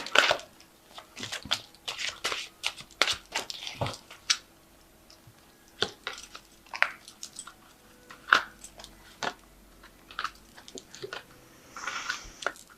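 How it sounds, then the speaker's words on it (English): Angel Tarot cards being shuffled and drawn by hand: a long run of crisp, close papery flicks and taps, irregular and bunched, with short pauses and a louder riffle near the end, no voices. "So I'm just going to draw some cards from the Fairy Tarot."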